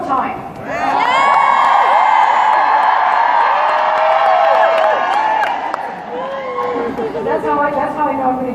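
A seminar audience cheers, whoops and shouts in a loud, sustained roar of many voices that swells, dips briefly and rises again, mixed with scattered applause.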